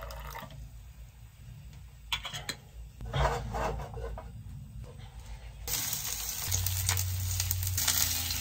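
Food sizzles in a pan in a World War II bunker, a steady crackling fry with scattered clinks and stirring that grows louder and brighter toward the end.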